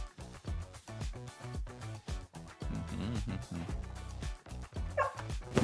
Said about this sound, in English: Do not bark.